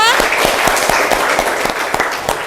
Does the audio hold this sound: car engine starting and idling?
no